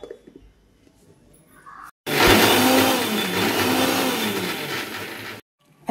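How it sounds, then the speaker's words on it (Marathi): A kitchen mixer grinder blends butter, garlic and cheese, a loud steady whirring roar that starts abruptly after a quiet moment and runs for about three and a half seconds with a rising and falling hum, then cuts off. "तेही मिक्सरला फिरवून घेत आहे।"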